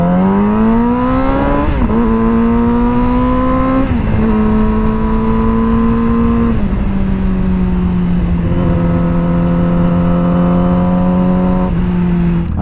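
A Yamaha YZF R6 sport motorcycle accelerates through its gears, the engine note rising in pitch with each gear and dropping briefly at every shift, loud and continuous beneath a steady rush of wind noise.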